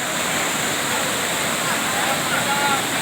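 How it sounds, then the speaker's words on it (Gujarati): At a hill station stream, water flows strongly over stones with a loud, constant rushing roar close to the listener. "પાણી પણ એકદમ ખડ વહી રહ્યું છે."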